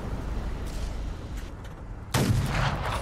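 Tank cannon fire in the Fallout New Vegas mod The Frontier: a single loud, sudden boom bursts out of steady background game noise and rumbles on for a moment.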